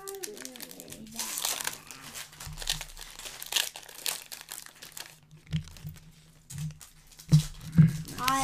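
Baseball card packs being torn open, 2022 Topps Pro Debut, with close crinkling and ripping foil wrappers in bursts between quiet moments, while a child and an adult talk.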